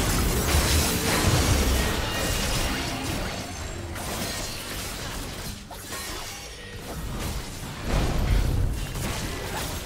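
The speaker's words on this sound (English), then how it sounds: "Red team's turret has been destroyed." A League of Legends turret collapses in a dense, loud burst of crashing, shattering debris and mechanical clatter, the crumbling roar rolling on for several seconds with no voices over it.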